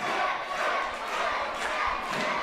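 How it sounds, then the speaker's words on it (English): A ringside wrestling crowd roars and cheers during a match between Jake McCluskey and David Deville, a loud continuous wash of voices with surging peaks and a few dull thuds. "The crowd are going nuts."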